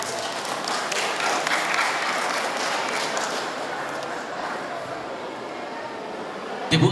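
Applause from a gathered crowd at an Indonesian community event, a sustained dense wash of clapping that carries steadily for several seconds at moderate loudness, with a louder burst right at the end.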